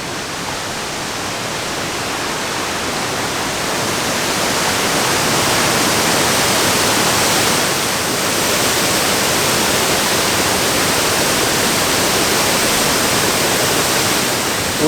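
A national park waterfall throwing heavy mist and spray gives a dense, steady roaring rush, loud and unbroken throughout, with no voices.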